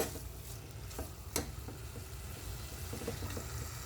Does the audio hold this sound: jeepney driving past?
no